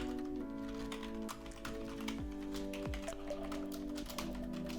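Computer keyboard keys clatter in quick irregular bursts of light taps as code is typed, close and fairly quiet over a steady electronic hum.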